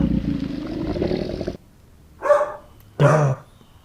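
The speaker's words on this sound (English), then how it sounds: "dog," A dog gives two short, sharp barks after a stretch of low broadband noise, each bark distinct and separated by a brief pause, with no talking.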